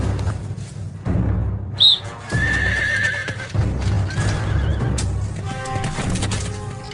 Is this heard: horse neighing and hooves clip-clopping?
yes